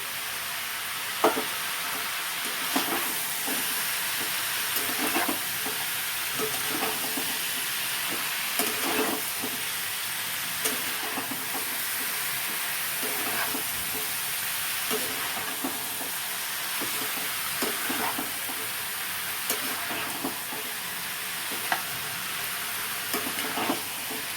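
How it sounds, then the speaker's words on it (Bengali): Chicken and soybeans fry in a pan with a constant sizzling hiss, punctuated by repeated light stirring clicks and scrapes at an irregular rhythm, no talking. "এই চিকেনের সাথে কিন্তু আমি এই সোয়াবিনগুলোকেও ভেজে নেব।"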